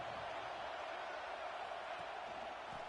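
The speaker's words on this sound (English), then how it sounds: "Listen to the crowd energy here in the early going." A large stadium crowd at an American football game makes a continuous, distant roar that holds steady throughout with no distinct cheers or voices standing out.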